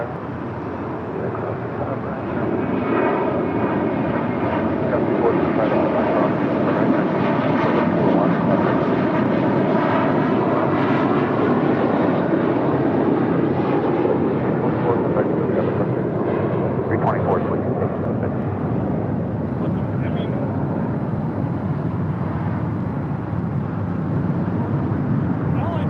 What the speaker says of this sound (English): That was JetBlue Airways Flight 324 heading to JFK in an A321.